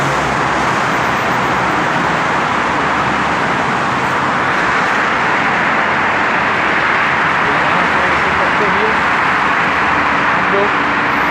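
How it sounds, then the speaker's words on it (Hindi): Dense, fast-moving traffic on a busy road, a continuous loud rush of passing cars with some heavier vehicles mixed in, heard close up with no break. "तो कभी ट्रैफिक नहीं रुकेगा यहाँ पे। बहुत भागती हुई गाड़ियाँ पूरे रोड पे आपको दिखेंगी।"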